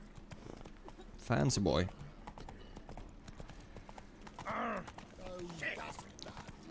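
Hooves of Geralt's horse Roach clip-clop in The Witcher 3: Blood and Wine, a soft steady gait under a spoken line and short game voice bursts.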